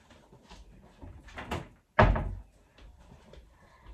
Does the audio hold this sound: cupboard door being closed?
yes